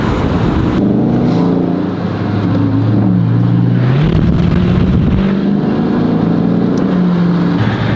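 A quiet car cruising on the road, a smooth low engine hum with steady tire and road noise and a slight rise in pitch, heard from inside the cabin with no talking.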